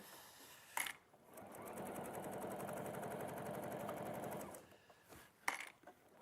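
A sewing machine fitted with a walking foot stitches thin fabric layers in one steady, close run of about three and a half seconds, with brief handling clicks before and after.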